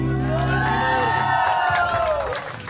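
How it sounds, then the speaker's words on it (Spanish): A family crowd at a mariachi birthday celebration erupts in loud, close cheering with rising whoops, over sustained musical tones, while scattered clapping stays faint beneath the voices. "¡Fuerte el aplauso!"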